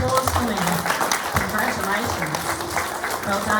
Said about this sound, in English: Give them a big round of applause for me